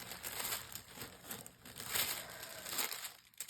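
New patterned tissue paper, being handled for a junk journal craft project, crinkles and rustles continuously in close, soft bursts with small crackly swells, with no talking.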